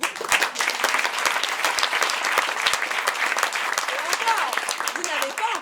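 Audience applause at a Brazilian-song choir concert, with steady, fairly close clapping from a modest crowd and a voice speaking over it near the end.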